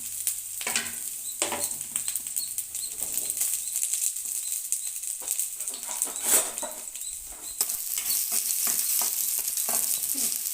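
Chopped onion and two green chillies fry in oil as a tempering for chicken pepper fry, a steady close sizzle broken by stirring scrapes, with no speech.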